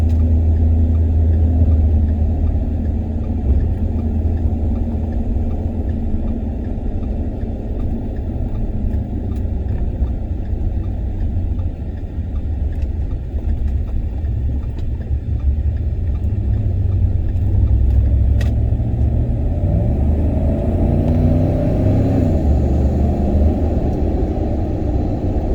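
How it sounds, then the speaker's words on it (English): Road traffic in Florida heard from the cab of a 2010 Ford F-150 Harley-Davidson edition, a steady loud low rumble of engines and tires with a passing vehicle swelling briefly near the end. "Florida traffic for you."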